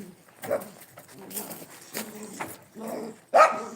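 Excited dogs bark and whimper close by in short, irregular bursts, ending with a louder yelp.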